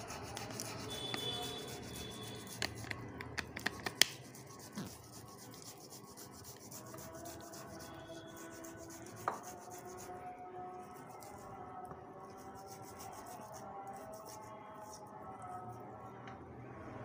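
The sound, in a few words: grating potatoes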